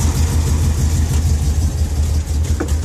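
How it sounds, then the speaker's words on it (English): The engine of a lifted 1979 Ford F-150 runs close and loud at a rough, throbbing idle. It pulses steadily, with a faint clank near the end and no talk. "Let me idle it here, Dill."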